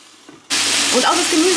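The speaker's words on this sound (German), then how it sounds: "dann brate ich das Gemüse mal an" Vegetables hit a hot pan and burst into a loud, steady sizzle after a brief quiet moment, with faint clinking underneath.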